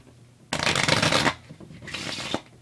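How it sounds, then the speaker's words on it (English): Two bursts of cards being riffled and shuffled, a long crisp flutter followed by a shorter one after a brief pause, close and fairly loud. "First off, I can shuffle the deck."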